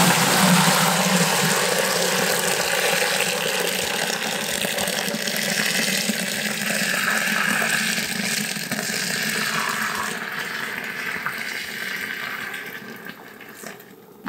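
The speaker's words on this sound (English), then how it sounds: "I'm going to pour the hot wort right into my fermentation vessel." Hot wort pours steadily into a fermentation vessel during home beer brewing, a continuous splashing gush that gradually thins and quiets toward the end.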